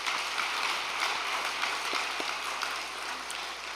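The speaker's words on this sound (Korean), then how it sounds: "박수 부탁드리겠습니다." Applause from a group at a fishing gathering after a 44 cm crucian carp was caught, a steady crackling patter of hands clapping throughout without any voices.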